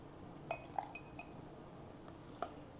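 Shrimp sausage chowder being ladled from a pot into a bowl, heard as a few light clinks of a utensil against dishware over a soft background, close by and faint.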